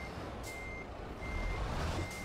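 A truck's reversing alarm in Euro Truck Simulator 2 gives steady, evenly spaced electronic beeps over a low engine rumble, fairly faint and with no voices over it.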